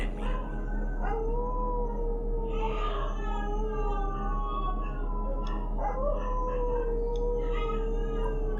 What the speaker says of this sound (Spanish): los perros comenzaron a aullar